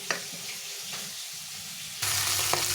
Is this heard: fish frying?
yes